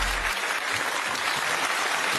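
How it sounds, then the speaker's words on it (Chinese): Audience applause at the Weibo Night 2023 awards gala, a dense, steady roar of clapping from a large indoor crowd that continues without a break. "掌声有请程磊、胡冰卿、李兰迪、林一、刘浩存、卢昱晓、张雨欣登台，捧起属于你们的微博之光。"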